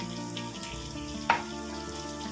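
Chopped onion frying in hot oil while a Kerala fish dish is cooked, a soft steady sizzle with one sharp clink of a utensil midway.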